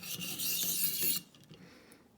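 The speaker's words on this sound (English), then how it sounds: "this side really only needs work on the back there on the heel of the blade" Cruwear steel knife blade drawn against a stone on a ViperSharp sharpening system, a single close raspy grinding stroke lasting about a second followed by faint scraping.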